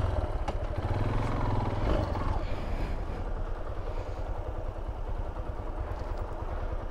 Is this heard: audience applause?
no